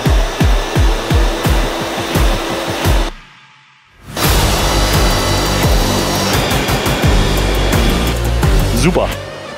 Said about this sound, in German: Wir haben nicht das Passstück hier rausgesägt.